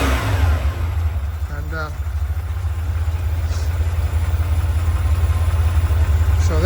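A 1979 Ferrari 512 Boxer with four triple Weber carburetors idles with a loud low rumble, its throttle snapped for quick revs as someone talks over the engine throughout.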